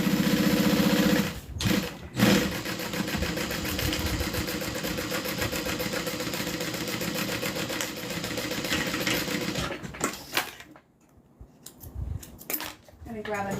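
Sewing machine stitching a purse, a close mechanical rapid whirring that runs steadily for about ten seconds with brief pauses, then stops and gives way to quieter handling sounds and a voice.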